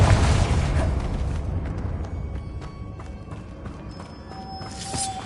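A Confringo spell blast in Hogwarts Legacy on PS5 opens with a loud, booming explosion that decays into a low rumble, followed by faint scattered clicks and pops.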